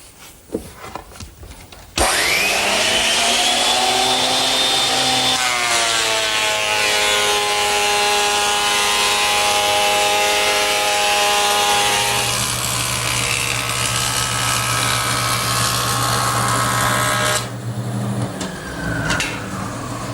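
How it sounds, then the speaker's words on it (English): A wood planer with vacuum dust collection feeding a board, starting abruptly into a loud steady roar with a rising whine, the pitch settling and deepening as the cut bites, then cutting off near the end. "it keeps the dust down, but more importantly, it removes all the chips from the planing operation."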